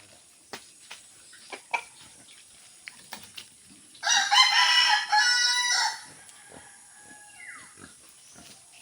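A rooster crows loudly nearby in one long, strained call, with scattered clucks and farmyard knocks before and a faint distant crow after.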